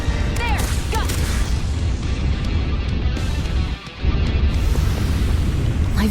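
Infernal Turret attack in the action RPG Tales of Arise, a sustained loud booming barrage of explosions with a brief dip before the blasts resume, under game noise and voices.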